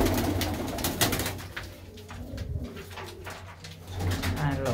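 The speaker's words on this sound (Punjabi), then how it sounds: "ਬਹੁਤ ਚੰਗੇ ਚੰਗੇ ਕਬੂਤਰ ਨੇ ਵੀਰ ਹੁਣਾਂ ਦੇ ਕੋਲ" Pigeons kept by a pigeon fancier, including pedigree birds, coo repeatedly in a low, rolling rhythm that carries through the whole stretch, with faint background noise and no talk.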